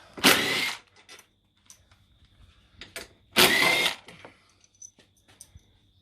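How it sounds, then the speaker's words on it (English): A 6mm tool undoes the side bolts holding a motorcycle seat, with two loud bursts of whirring ratchet-like turning, separated by quiet gaps with small clicks and taps, heard close up. "Get your 6mm, undo your bolts on the sides."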